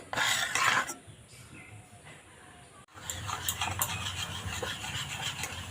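Batter for nimki snacks is mixed in a bowl, with close rubbing and scraping strokes in uneven bursts, a quieter gap midway, and no talking.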